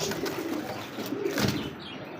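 Rajgolla pigeons in a collection coo close by, a low soft burbling call continuing steadily with slight background noise.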